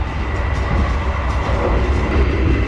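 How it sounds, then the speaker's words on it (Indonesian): An executive-class carriage of the Argo Sindoro train between Tegal and Jakarta rumbles and shakes, a loud, close, continuous low roar of wheels and rattling with no break. "Ini kereta ini memang guncangannya maha dahsyat."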